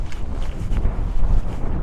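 A strong winter-storm wind blows across Sleeping Bear Dunes in Michigan. Low, rumbling gusts buffet the microphone continuously, with surges of roaring turbulence and no voices.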